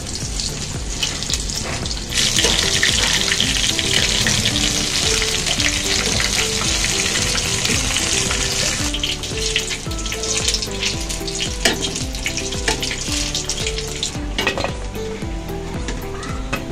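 Sliced mushrooms frying in hot oil until brown for a mushroom chop, with a loud, steady sizzle and crackle that fills the whole stretch and has occasional spoon scrapes.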